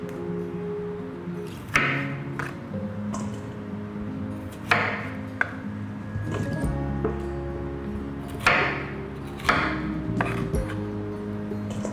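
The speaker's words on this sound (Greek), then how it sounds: "παίρνουμε ένα μαχαίρι και αφού έχουμε πλύνει και καθαρίσει το κουνουπίδι μας, το κόβουμε στη μέση," A knife cuts a washed, cleaned cauliflower in half and then into florets, giving several sharp, close chopping thuds and crunches at irregular intervals over a steady low background hum.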